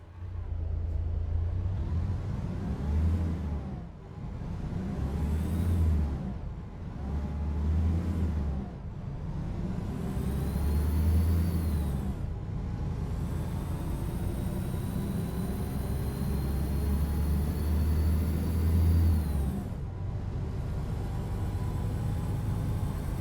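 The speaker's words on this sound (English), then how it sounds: "Let's accelerate and then have to stop when there's nobody at the traffic light on the other side" International LT truck in American Truck Simulator, a low diesel rumble that swells repeatedly as it accelerates, interrupted by higher hissing air-brake releases and slowing, steady throughout at moderate loudness.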